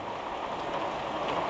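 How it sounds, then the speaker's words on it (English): Steady rain pattering outdoors on surfaces around a bagged Hyundai Veloster being fitted with an air suspension setup, a continuous close wash of drops with no voices. "it officially started raining"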